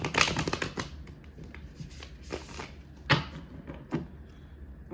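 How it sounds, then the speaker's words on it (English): Tarot cards being shuffled by hand, crisp riffling bursts and soft slaps in an irregular rhythm, close and moderately loud with no talking. "Okay, that was a good shuffle."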